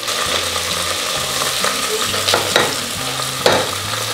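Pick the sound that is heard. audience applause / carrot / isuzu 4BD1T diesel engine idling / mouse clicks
carrot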